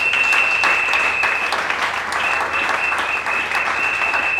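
A church congregation applauds together, dense sustained clapping that fills the room with a steady high tone running underneath, with no talking.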